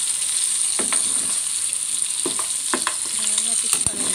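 Liver curry fries in a pan while being stirred, a continuous bright sizzle with a few sharp scrapes and clinks of the spoon against the metal, close and loud with no talking.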